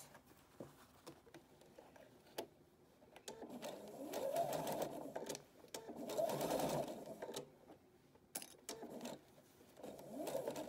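Sewing machine stitching fabric for a scrub or biker cap, short bursts of rapid mechanical whirring separated by pauses and small clicks, close and moderately loud.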